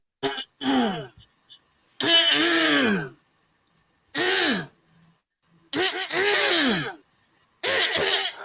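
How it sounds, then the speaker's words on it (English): Harsh, raspy throat clearing comes in repeated bursts of about half a second to a second each, separated by short silences, close and fairly loud, with a few guttural groan-like pieces among them. "Now, start by clearing your throat."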